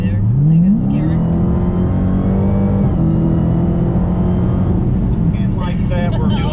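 Dodge Challenger Hellcat accelerating from inside the car, its engine note climbing sharply then holding a loud steady drone before easing off, with people talking over the motor.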